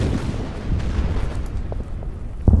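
Low, rumbling booms and blasts of artillery fire and explosions from the wargame Order of Battle, dense and continuous for a few seconds, with a sharper burst near the end.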